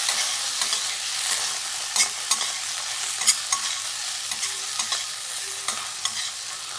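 Onion, asafoetida and tomato fry for paneer bhurji with a bright, continuous sizzle, while a spatula stirs and taps the pan in irregular, close-up knocks.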